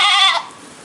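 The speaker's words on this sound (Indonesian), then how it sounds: "di antara 5 kambing ini" A single loud, close goat bleat from a small herd of five goats being examined for an eye disease, a wavering nasal cry that stops abruptly and leaves quiet room tone.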